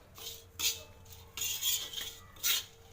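A spatula scraping and clinking against a tawa while okra fry is stirred in oil: several distinct close metallic strokes in short irregular bursts, separated by quieter gaps.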